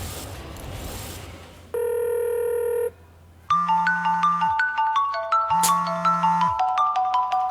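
A telephone rings indoors, a steady electronic tone followed by a loud repeating melodic ringtone with a pulsing beat, close and clear with no voices.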